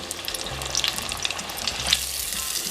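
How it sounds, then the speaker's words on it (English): Steady crackling sizzle of dill pickle spears deep frying in hot oil, close up, with bursts of popping and a low rumble underneath, no talking. "continue frying in small batches"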